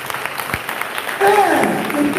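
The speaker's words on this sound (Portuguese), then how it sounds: "Pode aplaudir Jesus." A church congregation applauding, a dense burst of clapping that swells midway and continues steadily beneath a speaking voice.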